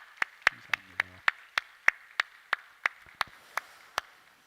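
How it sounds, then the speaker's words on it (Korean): Slow, sparse applause at a Friday prayer meeting: a few hands clap in distinct, evenly spaced sharp claps, near and isolated, with a faint low murmur underneath. "다시 한번 박수로 격려하겠습니다."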